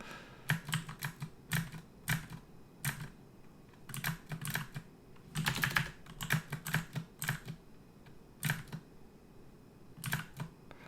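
Computer keyboard typing during a Dungeon Crawl Stone Soup game, with irregular bursts of close, crisp keystrokes in clusters separated by short pauses, over a faint steady hum and no talking.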